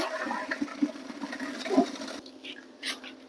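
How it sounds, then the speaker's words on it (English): Hot pasta water from boiled pasta pours out of a pot into a sink, a rushing, gurgling splash with a few clanks that cuts off abruptly partway through. "I'm just going to drain the pasta."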